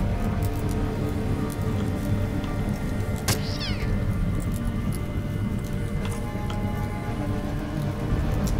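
A cat in the Underrail video game gives a short, close meow partway through, over a dense, steady patter of rain and background noise that runs the whole time.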